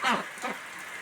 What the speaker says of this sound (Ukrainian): Оце такий у нас сьогодні іменно дощик.